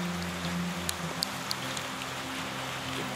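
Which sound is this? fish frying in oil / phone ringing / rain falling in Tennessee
rain falling in Tennessee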